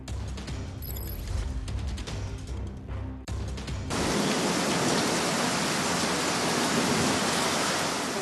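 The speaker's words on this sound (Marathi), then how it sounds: "पुण्यामध्ये जोरदार पाऊस बरसतोय" Heavy rain pours down in Pune as a dense, loud, continuous roaring hiss that takes over after a few seconds of muffled, mixed background noise and keeps going.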